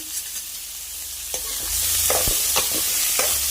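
Onion, green chilli and curry leaves sizzle in a hot pan while being stirred, with steady frying hiss and several sharp scraping clicks of a spoon against the pan, close and alone without talk.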